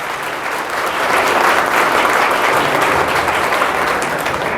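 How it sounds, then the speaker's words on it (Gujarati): A crowd at a New Year's Eve celebration in Morbi breaks into loud, sustained applause, dense clapping swelling after the first second and holding strong throughout. "તો સૌ પહેલાં તો તાળીઓનો ગડગડાટ થઈ જાય"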